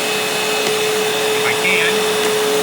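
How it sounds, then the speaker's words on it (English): A Dirt Devil Ultra MVP 089200 upright vacuum runs steadily with its brush roll motor engaged, a loud, continuous motor whine and airflow roar held evenly across the whole stretch with no pauses. "Let's go ahead and turn the brush roll motor on"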